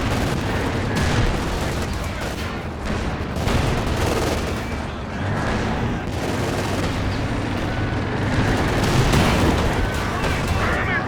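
Katyusha rocket artillery and battle fire in Company of Heroes 2 form a dense, loud, continuous barrage of shots and explosions, with a voice talking at times under the din.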